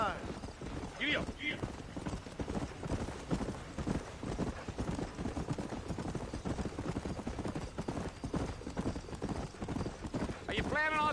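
A horse in Red Dead Redemption trots with rhythmic clip-clop hoofbeats under ongoing conversation between riders, with a brief whinny near the start and again at the end.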